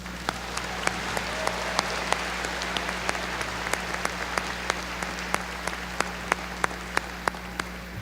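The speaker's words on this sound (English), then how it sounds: "So a round of applause, please." Steady applause from a seated audience at a university convocation, dense clapping over a constant low hum from the hall's sound system, with a few sharper individual claps standing out and no one speaking.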